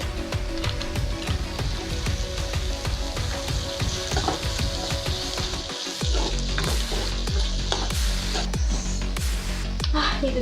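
Chopped onions with salt frying for a Kerala-style curry, a dense, steady sizzle close by with faint stirring scrapes, loud and continuous throughout.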